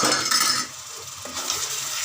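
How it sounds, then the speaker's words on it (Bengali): Chopped tomatoes are stirred into garlic and onion frying in a pan, a short, close burst of sizzling with the scrape of a spoon against metal, and no talking. "রসুন পেঁয়াজ একটু নেড়ে নিলাম, ভাজা হয়ে এসছে, লাল লাল হয়ে এসছে। এবার এর মধ্যে আমি টমেটো দিয়ে দিলাম"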